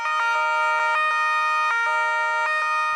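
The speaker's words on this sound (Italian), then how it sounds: "1 minuto di sirene spiegate nel silenzio per l'ultimo saluto al poliziotto" Police sirens blare in unison for a funeral salute to a fallen officer in Secondigliano, loud steady wailing tones with rhythmic pulses, no talking over them.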